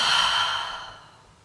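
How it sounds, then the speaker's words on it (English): A single big exhaling breath during a yoga core session, loud and close, fading out gradually over about a second. "Big breath into the belly. Big breath out."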